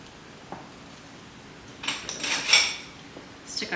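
A new cayenne pepper container is opened in a kitchen: a faint tap, then a burst of crinkly plastic and lid clatter followed by a short rattle, close and without speech.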